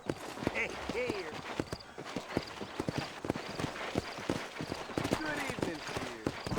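Horse hooves clip-clopping in the video game Red Dead Redemption: a steady rhythmic trot of close, crisp hoofbeats over a faint outdoor ambience, with a voice speaking over them.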